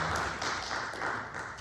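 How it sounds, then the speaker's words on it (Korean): A church congregation applauds its choir during a Sunday worship service, a dense and even wash of clapping heard from a distance. "다시 한번 힘찬 박수로 우리 성가대와"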